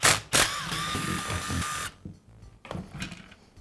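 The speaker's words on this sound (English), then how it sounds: "Now remove the handle housing." Close mechanical whirring and rattling come from a DeWALT drill for about two seconds during repair work, then give way to softer plastic clicks and taps as its handle housing is worked off.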